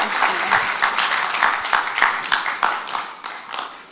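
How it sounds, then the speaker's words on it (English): A modest audience at a testimony panel claps in quick, distinct bursts, the applause close and lively at first before thinning and fading toward the end. "give them a hand, give them a round of applause"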